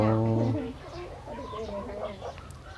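Hens cluck and croon in a busy, overlapping chorus at close range, with one louder bird standing out at the start.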